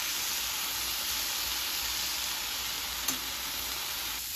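Chicken sizzling steadily in a hot pan for a healthy chicken wrap, a dense continuous hiss with a faint clink partway through and no talk.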